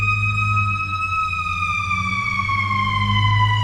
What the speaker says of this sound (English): We are waiting for the siren, y'all.